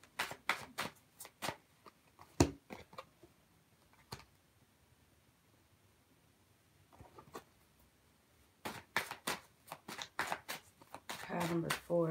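Tarot cards are shuffled in bursts of crisp, close riffling and flicking, a flurry at the start and another toward the end, with quieter gaps and a little talking between.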